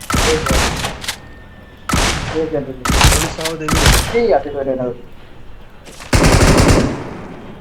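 Automatic gunfire in a PUBG-style battle royale video game comes in loud, rapid bursts separated by short pauses. Several sharp volleys stand out, and the last burst is the longest.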